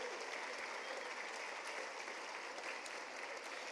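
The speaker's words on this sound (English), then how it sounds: "Could we give them a round of applause," An auditorium audience at a school district inspirational speakers event claps for the executive leadership team, a dense, even wash of applause that holds steady throughout at moderate distance.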